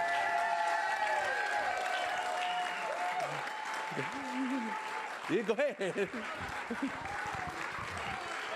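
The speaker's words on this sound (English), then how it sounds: "keep the applause going" Applause from a concert audience after a live country set: steady, moderately distant crowd clapping holds throughout, with tonal hum and a brief voice speaking partway through.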